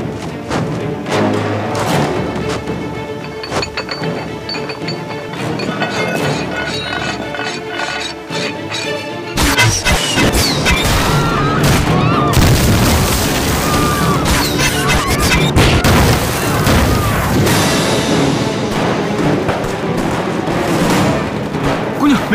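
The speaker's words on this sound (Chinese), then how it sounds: "准备第二轮炮击" Artillery shells explode in a kung fu war action film: a dense, heavy jumble of thuds, booms and crashes that grows louder and rougher about halfway through, with faint voices mixed in.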